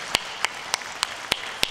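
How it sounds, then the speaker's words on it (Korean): Six crisp, evenly paced hand claps sound in a church during a worship service, faint and isolated against a quiet room with nothing else heard. "박수로 영광 올려드리겠습니다"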